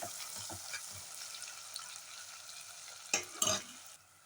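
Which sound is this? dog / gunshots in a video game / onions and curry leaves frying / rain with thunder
onions and curry leaves frying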